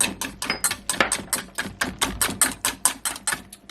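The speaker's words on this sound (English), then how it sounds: "now we're going to go ahead and whisk that in to our egg" A whisk beats milk and vanilla into an egg in a mug, a loud, fast run of rhythmic clinking taps against the sides.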